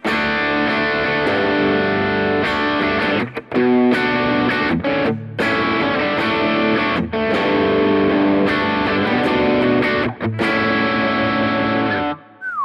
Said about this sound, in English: there is a good amount of volume boost with that boost turned on